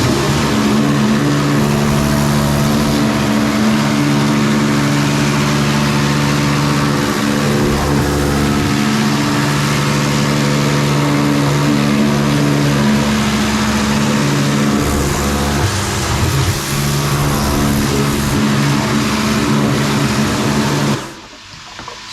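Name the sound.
jet washer cleaning stainless steel filter basket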